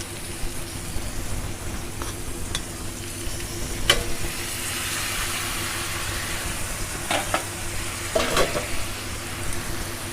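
Chicken pieces go into a hot pan with vegetables and sizzle loudly, a continuous frying crackle with occasional sharp pops and stirring scrapes, close up and without talk.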